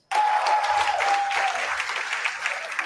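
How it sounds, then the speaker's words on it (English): A crowd watching the SpaceX Starship booster return breaks into loud, sustained applause and cheering that starts abruptly and keeps going at full strength, with one high whistle-like note riding over the clapping for the first half. "you can hear the crowd screaming for every milestone"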